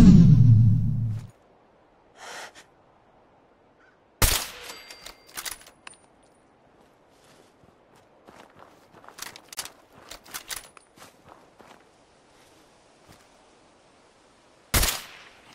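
Hunting rifle and Overseer's Guardian rifle in Fallout 4, a few sharp isolated shots spread far apart with clicks and metallic cocking noises between them, in otherwise quiet surroundings.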